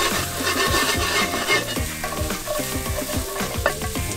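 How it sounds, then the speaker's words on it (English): Mushrooms sauté in a hot pan, crackling with a steady close sizzle while a utensil stirs and scrapes them in a regular rhythm. "Saute them mushrooms till they're good and brown."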